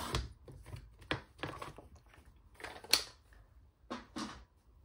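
Paper for a gift box and match booklet is cut to size, a series of crisp, close slicing and crunching strokes separated by short pauses, fairly quiet with no talk.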